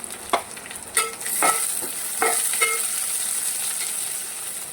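Onion and chili fry in a pan with curry leaves, a bright sizzle broken by a few sharp clinks and scrapes of stirring near the start, then settling into an even hiss.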